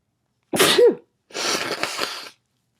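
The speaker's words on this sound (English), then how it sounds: "So I feel like I'm going to sneeze." A single loud, close sneeze, then after a brief pause a longer, breathy, noisy burst.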